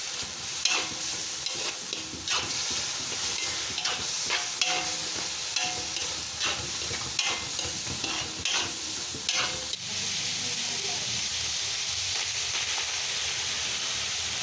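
Loud, steady sizzling and stirring of pork liver frying in a hot pan with garlic and onion, with scraping and clattering from a spatula, continuing without talk.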